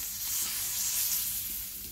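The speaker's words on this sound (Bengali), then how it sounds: "ওই তেলে দিয়ে দিলাম একটা তেজপাতা" A single bay leaf sizzling in hot oil left from frying katla fish, a dense, steady, hissing crackle that swells slightly and stays close, with no voices.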